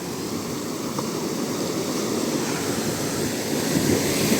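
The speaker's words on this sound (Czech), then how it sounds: "ty vlny jsou jako hardkorářský" Ocean surf washing steadily on the Portuguese coast along a fishermen's trail, a continuous broadband roar with wind buffeting the microphone, swelling slightly louder toward the end and heard alone without voices.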